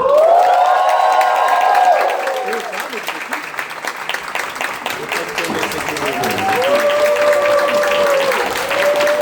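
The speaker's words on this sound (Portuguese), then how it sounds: "eu quero que vocês recebam com muitos aplausos a minha amiga pessoal, Vera Rosella!" An audience at a drag show talk claps loudly to welcome drag queen Vera Rosella, with whoops and cheering voices rising over the applause throughout.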